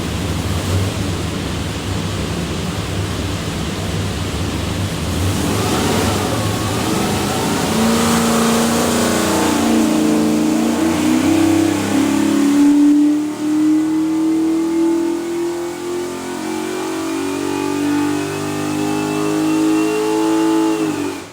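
A 600 hp cross-ram 427ci Dart LS V8 on an engine dyno for a 1960 Corvette, loud and close, idling roughly at first, then sweeping up through a long, steady full-throttle pull with a rising, howling pitch that cuts off abruptly at the end.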